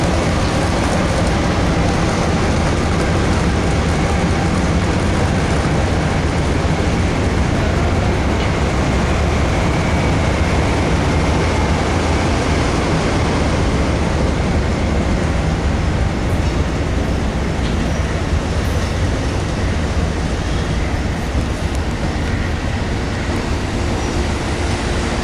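A passenger train pulls away from Chicago with a continuous loud rumble and clatter of wheels on rails, steady and close throughout, with no talking.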